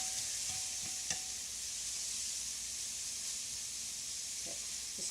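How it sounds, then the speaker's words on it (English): Vegetables sauté in a pan, a faint, steady sizzle and hiss heard at a distance with a few light clinks of a utensil. "You're gonna saute this until the vegetables are soft. Just spread them out in the pan."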